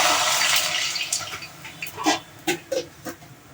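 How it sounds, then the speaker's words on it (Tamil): A tumbler of water is poured into a pot of cooking vegetables (white pumpkin, beans, chow chow, potato and drumstick), a brief rushing splash at first that fades into quieter bubbling and a few small knocks. "ஒரு டம்ளர் தண்ணி ஊற்றுறேன்."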